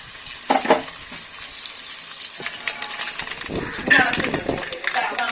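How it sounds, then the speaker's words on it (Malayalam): Coconut pieces fry in a pan with a steady crackling sizzle while a voice talks over it, and a few louder scraping stirs stand out. "കുറച്ച് തേങ്ങാക്കൊത്ത് തേങ്ങാക്കൊന്ന് മൂത്ത് വരുമ്പോൾ"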